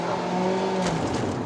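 Engine of a 2015 Kia Rio facelift 1.4 SX with manual gearbox pulling steadily under moderate throttle on a test drive, a constant drone heard from inside the cabin that eases slightly near the end.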